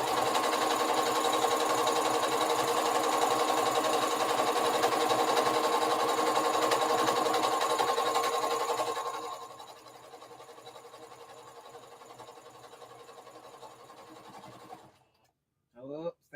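A sewing machine stitches a circle dress with a fast, steady mechanical whir for several seconds. The whir then slows into quieter running and stops, and a brief rattle follows at the end.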